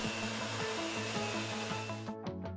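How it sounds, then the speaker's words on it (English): A vacuum machine draws air out of plaster-like investment in a jewelry casting flask, a steady, loud mechanical hum with a pulsing rhythm that cuts off abruptly near the end, leaving faint fading clicks. "A vacuum machine is used to remove all the air from the investment."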